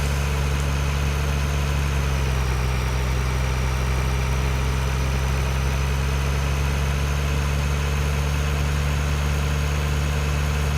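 A farm tractor engine drones loudly and steadily as it drives along past fields, a constant low rumble with no speech.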